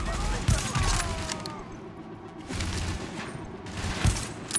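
Bursts of rapid gunfire from the video game The Division, several loud volleys separated by short pauses amid steady combat ambience, with a voice talking over it.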